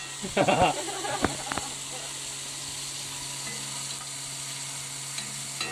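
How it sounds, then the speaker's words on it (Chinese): Green peppers stir-frying in a pan on an RV camping trip give off a steady, close sizzling hiss throughout, with a few brief clatters and muffled voices near the start. "首先，我们将青椒下锅爆香"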